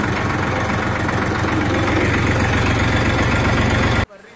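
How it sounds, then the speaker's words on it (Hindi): A farm tractor engine runs steadily as it drives between fields, a loud, close, low chugging drone that holds evenly before cutting off abruptly near the end. "अब हम ट्रैक्टर ले चल दिए हैं दूसरे खेत पे"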